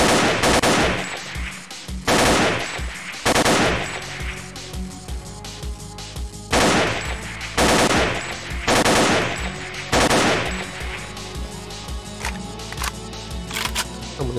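Gunfire in the video game STALKER Clear Sky with the Arsenal Overhaul mod: loud, close bursts of automatic fire in repeated volleys, separated by short pauses with lingering echoes and ambient game noise.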